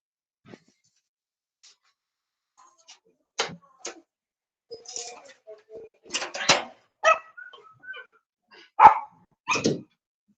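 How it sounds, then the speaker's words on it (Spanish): A small dog barks nearby in a string of sharp, separate yips and barks with short gaps between them, spread over the stretch and growing louder toward the end, with no talk over them. "un perrito por acá estaba ladrando"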